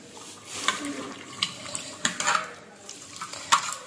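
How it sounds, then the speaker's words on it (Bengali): Food being washed by hand under running water in a kitchen sink, a soft steady trickle with intermittent splashes and light clinks close by. "আগে আমি ধুয়ে নিই"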